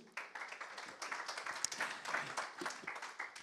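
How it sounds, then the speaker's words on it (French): A conference audience claps steadily, a dense spread of clapping hands that stays even for a few seconds without talk over it. "Merci, on peut les applaudir tous les deux."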